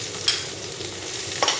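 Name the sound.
garlic sizzling in hot cooking oil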